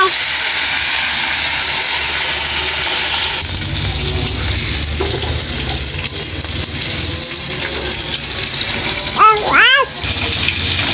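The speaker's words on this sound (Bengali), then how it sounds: "তো আমি মাছগুলি ভাজা বসিয়ে দিয়েছি।" Fish frying in hot oil, a steady broad hiss and sizzle heard up close, continuous throughout, with a child's brief vocal sounds near the end.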